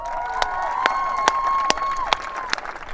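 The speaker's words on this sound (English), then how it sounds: "big round of applause for Kelly" A crowd at a school canoe polo championship applauds and cheers for the tournament organiser, with scattered close claps, whistles and a sustained shout over a steady murmur.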